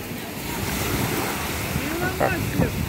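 Ocean water draws back off a Hawaii beach in a steady wash of surf and wind, loud and close, with a faint voice in the background.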